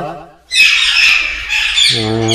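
Loud, harsh bird squawks burst out one after another, close by, in an aviary at a bird nursery in Namangan, Uzbekistan, with a voice briefly talking at the end.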